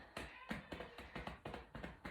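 A person taps their own lower back over the kidneys during a self-massage, making about nine soft, rhythmic hand taps, close and quiet with no talk.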